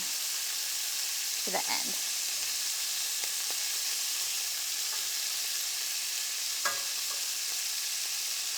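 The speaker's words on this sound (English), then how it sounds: "We're not cooking the meat all the way through here. We're just getting it brown on the edges." Meat browning in a hot pan during a French dinner workshop gives a steady, dense sizzle throughout, with a few brief clinks of turning near the middle and a short spoken phrase near the end.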